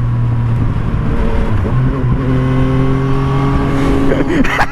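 Yamaha MT-09 motorcycle engine revving hard under throttle, a loud, close, continuous harmonic roar whose pitch climbs and dips with each twist of the grip, with a rougher rise near the end.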